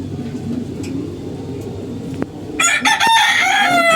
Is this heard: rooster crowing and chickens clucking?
yes